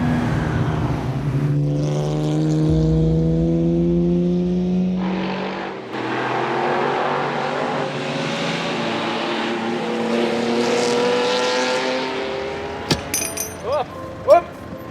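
Historic competition race cars, a Jaguar E-Type, a BMW 2002 and a two-litre Porsche 911, run loud and close with engines droning and shifting pitch as they pass, over crowd noise and some talk.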